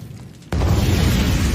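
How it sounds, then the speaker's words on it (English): An anime smoke bomb goes off: a sudden loud burst after a short quiet stretch, followed by a sustained broad hissing rush that stays loud to the end. "What's that? A smoke bomb?"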